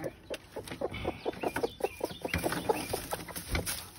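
A setting hen clucks close by while her eggs are checked, giving a run of short, irregular clucks and low grumbles at moderate loudness.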